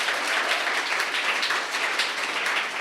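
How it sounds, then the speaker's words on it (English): Dense, loud audience applause for the judges at a pitch competition finale, a continuous wash of many clapping hands holding steady with no letup. "give a round of applause for our judges before they go off"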